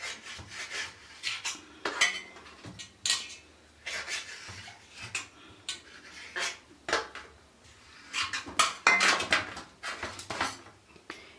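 Cleaned goat tripe (ojhri) being chopped into small pieces with a knife, giving a run of close, sharp cutting and scraping strokes in uneven bursts, with no talking.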